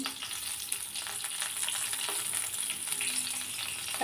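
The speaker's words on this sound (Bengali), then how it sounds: "এখন এইগুলো আমি একটু ভালো করে ভাজি করে নেব" Bay leaf and cinnamon fry in hot oil in a pan with chopped onion and green chili, giving a steady close crackling sizzle with faint stirring scrapes throughout.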